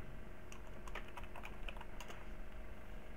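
Someone types a search on a computer keyboard, producing a quick run of soft key clicks over a steady background hum, fairly faint and close.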